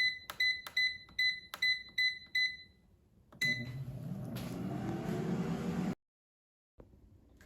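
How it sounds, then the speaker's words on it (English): An air fryer set to 380°F for frozen pancake bites gives a quick series of crisp control-panel beeps, then a steady, fairly loud fan whir that runs for a few seconds and cuts off abruptly. "And now I'm going to put the basket in the air fryer."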